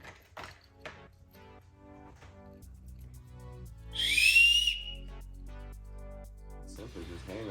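A survival whistle from a gear kit gives one loud, shrill blast of about a second partway through, sounding over quiet talk and small handling clicks.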